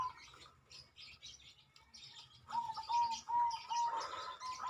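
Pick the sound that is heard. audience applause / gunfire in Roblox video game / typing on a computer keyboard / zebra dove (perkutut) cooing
zebra dove (perkutut) cooing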